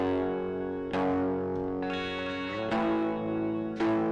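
Electric guitars strike power chords with light distortion and a little delay, four ringing chord hits spaced about a second apart, each left to sustain and echo before the next.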